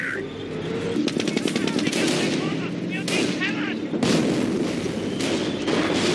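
Gunfire and artillery shelling crackle and thud in the World War II strategy game Company of Heroes, a dense, continuous battle din of rapid shots and heavy impacts, with voices heard over the combat.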